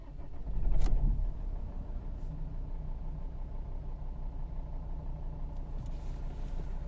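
A 2011 Volvo V50 with a 2.0 diesel engine cranks and catches in a short burst near the start, then settles into a steady, even idle rumble that runs on without talk.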